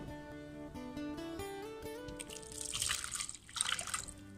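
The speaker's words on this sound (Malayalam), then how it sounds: "ഇതിലേക്ക് തേങ്ങാപ്പാലും കൂടെ ഒഴിച്ച്" Coconut milk is poured into a Kerala fish curry, a soft liquid splash and trickle rising in the second half over faint background music.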